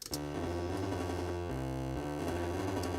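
A heavily fuzzed electric guitar holds thick, buzzing, saturated chords, one chord change after another, loud and up close.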